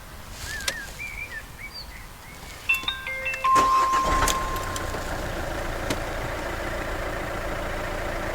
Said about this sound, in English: Let's try starting it up.